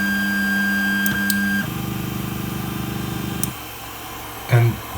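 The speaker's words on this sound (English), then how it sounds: "Then home your hot end to the home position." A 3D printer homes its hot end, with a steady whirring stepper-motor drone and a higher buzzing movement that stops, ending with a short clunk; a few faint clicks sound alongside.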